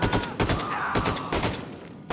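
Gunfire in Wolfenstein 2 The New Colossus, several close, loud bursts of rapid shots with brief gaps between them, dominating the mix.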